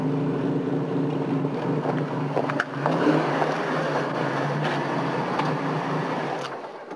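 A Ford Capri 2.8 Injection revs hard during a wheel spin, its engine a loud, sustained roar close to the microphone that dips briefly, then drops away near the end, with wind buffeting and no speech.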